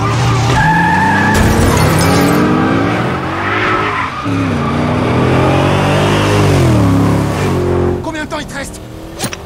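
Car in a film chase driving off fast, tires skidding and squealing as the engine revs hard and climbs, loud and close and sustained, with a brief rattle at the end.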